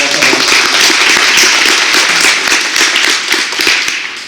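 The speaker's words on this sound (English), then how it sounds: "let's give her a big round of applause" Audience claps at a board recognition presentation, a loud, close burst of many hands clapping, sustained for a few seconds and tapering slightly at the end.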